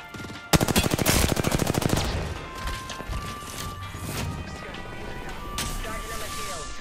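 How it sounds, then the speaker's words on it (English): Enemy team's gunfire in an online shooter game: a loud burst of rapid automatic fire that trails into scattered shots and crashes, with players talking over it. "The other team shooting them in the back."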